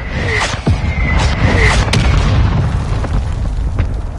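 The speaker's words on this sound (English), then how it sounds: "they got that mortar strike on it right now" Mortar strike in Warzone 2: dense rumbling booms and blasts in a loud, continuous barrage, with a few whistling streaks and pops cutting through.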